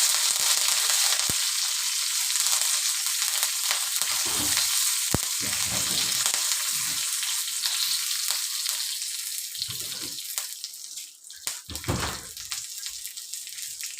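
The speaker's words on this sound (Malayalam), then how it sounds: "കറിവേപ്പില ഇട്ട് കൊടുക്കാം." Curry leaves dropped into hot oil after mustard seeds for a Kerala-style coconut chutney tempering, giving a loud, steady frying sizzle with crackling bursts across the whole stretch and no voices.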